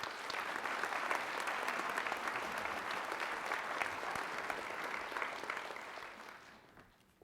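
A commencement crowd applauds as a speaker is welcomed to the podium, a full sustained wave of clapping across a large hall that fades away over the final seconds.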